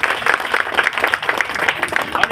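A crowd at a Bhim Nagar Ambedkar Jayanti gathering claps steadily in a dense burst of applause, with voices mixed in underneath.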